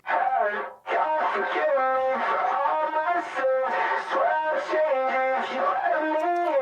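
A sung vocal processed through the Echo Boy plugin's Garage Door preset, its lines smeared into a dense, roomy echo with a slightly gritty, lo-fi tone, sustained and steady for several seconds.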